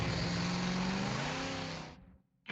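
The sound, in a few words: muscle car engine revving with performance exhaust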